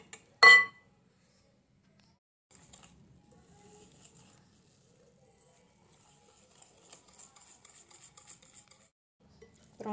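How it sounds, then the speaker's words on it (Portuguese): A utensil stirs flour and cornstarch batter for a Korean sponge cake in a bowl, opening with one sharp clink, then soft intermittent scraping and tapping in an otherwise quiet kitchen. "agora eu vou misturar aqui"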